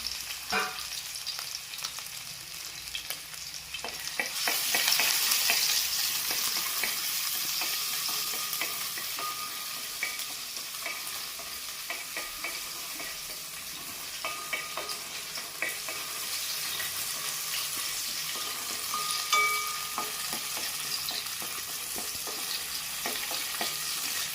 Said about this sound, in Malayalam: ഈ സവോള ഉള്ളിയിൽ ഒരു ടേസ്റ്റ് പിടിക്കാൻ വേണ്ടി മാത്രം ഈ സാധനങ്ങളൊന്ന് വഴറ്റി എടുക്കാം